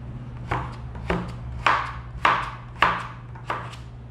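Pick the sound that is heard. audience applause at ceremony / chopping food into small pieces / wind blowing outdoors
chopping food into small pieces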